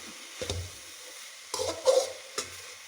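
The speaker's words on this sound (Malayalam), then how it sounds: "നമുക്ക് ഇളക്കി കൊടുക്കാം." Pathila thoran, a Kerala leaf stir-fry, stirred in a pan: three short scraping stirs with a soft sizzle, close by and separated by quiet pauses, with no voices.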